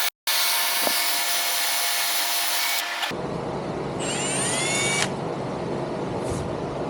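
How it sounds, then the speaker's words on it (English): A power drill runs steadily for a few seconds drilling a hole for a rivet, then its motor whines down and stops, leaving faint squeaks and background noise. "So I'm going to drill a hole."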